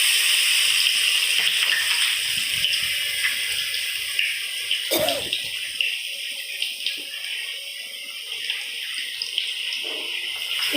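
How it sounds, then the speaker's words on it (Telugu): Pachipappu vadas fry in hot oil in a kadai, producing a steady close sizzle scattered with small crackles and pops that runs throughout, with no talking. "ఈ వడలను కొంచెంసేపు ఆయిల్లో అలాగే ఉంచాలి."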